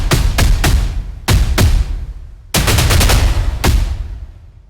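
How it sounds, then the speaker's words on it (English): Layered cinematic trailer drum hits from the KeepForest Devastator plugin boom out in loud, heavy clusters, each strike ringing and decaying before the next group of rapid thunderous blows. "one single drum hit. With trailer drums, it's about layering"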